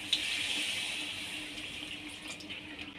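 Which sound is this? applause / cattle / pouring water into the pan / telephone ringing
pouring water into the pan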